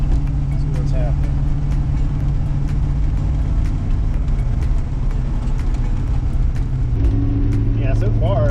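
Turbocharged Ford Mustang Foxbody driving a lap on a road, a steady loud engine drone heard from inside the car, with a person talking over it.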